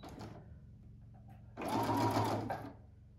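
A Brother Innov'is 200 sewing machine runs a triple straight stitch in one steady burst of about a second. It is close and moderately loud, and quieter machine hum comes before it.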